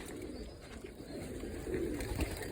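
Pigeons coo softly in a low, steady murmur while being fed, with a scattering of faint background noise and no talking.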